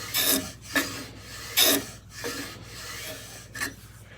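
A Stanley hand plane chamfers the end of a wooden board in steady rasping strokes, about five or six passes with short pauses, close and alone.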